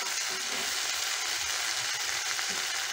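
Mixed vegetables with aubergine frying in a pan for a roti side dish, a continuous even hiss and crackle holding at steady loudness throughout, close and without speech.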